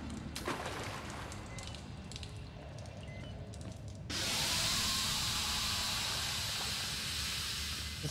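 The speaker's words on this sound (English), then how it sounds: "This game trying to scare me with steam." Steam hisses in the horror video game Outlast: a softer hiss gives way to a sudden loud, sustained broadband rush that continues steadily to the end, with no talk.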